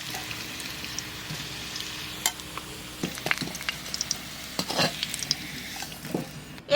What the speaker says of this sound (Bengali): মাছ ভাজা তেলের মধ্যে আলু এখন ভাজে নেব